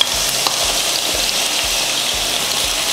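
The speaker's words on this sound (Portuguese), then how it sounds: "Já com o azeite quente, vamos adicionar a cebola" Onion frying in hot olive oil for bacalhau à Romeu, a loud, dense continuous sizzle close up with faint low stirring bumps underneath.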